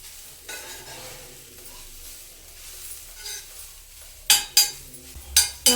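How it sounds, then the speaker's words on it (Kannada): Grated carrots frying in ghee for carrot halwa, with a soft sizzle under slow stirring, then a few sharp, loud scrapes and clinks of a spoon against the pan near the end, close by and without speech. "ಒಂದು 5 ನಿಮಿಷ ಫ್ರೈ ಮಾಡಿಕೊಂಡ್ರೆ ಸಾಕು."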